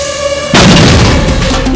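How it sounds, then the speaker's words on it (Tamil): A loud firecracker goes off in a home, a sudden heavy boom that follows quieter sound and then leaves a sustained roaring wash. "உங்க ஆத்துல பெருசா வெடி சத்தம் கேட்டது"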